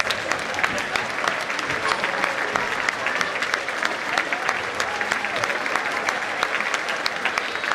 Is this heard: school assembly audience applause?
yes